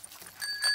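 A bicycle bell on a child's bicycle in a cartoon rings with bright, short metallic dings, the second one longer, clear and near over a quiet background.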